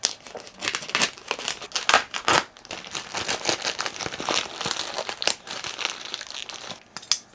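A cardboard box package for a Pitaka iPad case is cut and pulled open, giving close, busy crinkling and tearing with sharp scrapes and crunches throughout.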